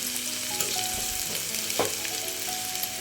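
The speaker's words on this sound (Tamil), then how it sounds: "சிக்கனை இப்போ போட்டுக்கலாம் போட்டு நல்லா சுருள சுருள சுருள சுருள வதக்கிக்கலாம்" Shredded leftover chicken stir-fried roadside-style in a hot pan, giving a steady loud sizzle with scraping stir strokes and one sharp clatter midway, no voices.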